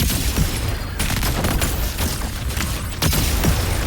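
Grenade blasts and dense gunfire from combat in the video game Wuthering Waves, a loud, continuous barrage of booms and rapid shots with sharp bursts near the end.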